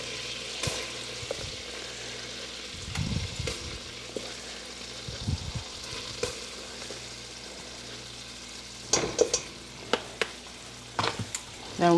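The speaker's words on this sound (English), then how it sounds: "Then we're going to whisk to get it well incorporated" Flour being whisked into melted butter in a pot, a steady soft sizzle of the roux running throughout with scattered stirring scrapes and a few sharper clinks of the whisk against the pot near the end.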